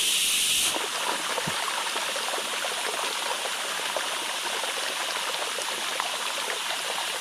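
A Himalayan forest stream flows steadily, a continuous watery rush and trickle close by, with no voices heard.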